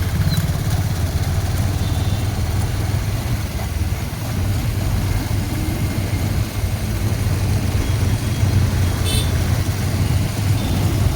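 A car engine runs steadily while a new driver learns to drive, a continuous low rumble with road noise throughout and no talk.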